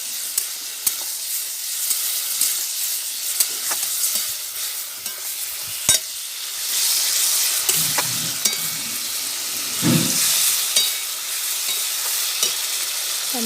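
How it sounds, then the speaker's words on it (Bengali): Ginger-garlic paste with onion, tomato, cumin and chilli powder frying in a pan, a steady sizzling hiss with occasional louder bursts and scraping stirs, close and alone with no talk. "আমি এবার আদা রসুন বাটা এবং জিরে গুঁড়ো লঙ্কা গুঁড়ো দিয়ে মশলাটা একটু কষিয়ে নেব।"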